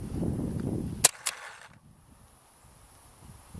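An airgun fired through a chronograph with a barrel kit, two sharp snapping cracks in quick succession standing out clearly after a brief low rumble, then near quiet.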